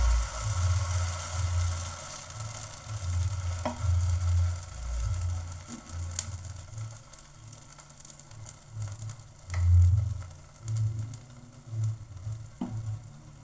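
Banana pancake batter frying in ghee in a pan, a soft steady sizzle with gentle low bubbling swells and a few faint utensil ticks, close and continuous without any talking.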